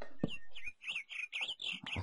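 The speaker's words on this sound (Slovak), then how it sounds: "A tie zvuky vtákov, to sú úžasné, hlavne tá vrana" Birds in the Minecraft video game chirp and call in quick repeated notes, fairly close, with a low thump at the start and no talking.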